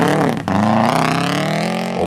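A rally car at the Safari Rally in Kenya corners at speed, its engine roaring loud and close with a brief dip in the middle before the drone picks up again.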